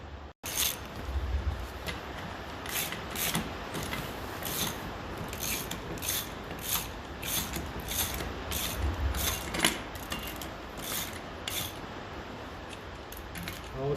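A ratchet clicks repeatedly as it tightens nuts on a Massey Ferguson 35 tractor in a workshop, giving sharp rhythmic ticking strokes spread over the whole stretch, close by with a low background hum.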